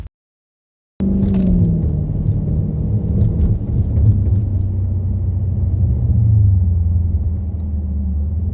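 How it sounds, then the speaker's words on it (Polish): A Dodge Challenger 6.4 Hemi with a naturally aspirated petrol V8 starts after a second of silence, then settles into a loud, deep, steady idle rumble, heard up close and alone. "Pod długą maską benzynowe wolnosące V8."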